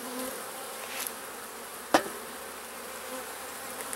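Honey bees hum in an open hive during an inspection, a faint, steady low buzz running throughout with a single sharp knock near the middle.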